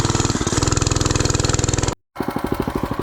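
A small budget mini bike engine chugs with a rapid, even putter during a test ride, loud and close, briefly cutting out before resuming its fast thumping rhythm.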